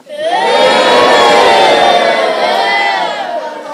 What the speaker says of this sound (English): I order you to boo!